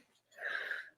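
A single sneeze from a person nearby, a short breathy burst of about half a second that swells and fades quickly, heard alone without talk.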